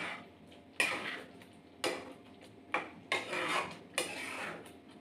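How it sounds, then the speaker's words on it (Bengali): A utensil scrapes and clinks against a pan while egg butter is stirred, giving about five separate quiet strokes with pauses between them and no voices. "এটা কমপ্লিট হয়ে গেছে, ভালো করে এটা মিক্স করে নেব।"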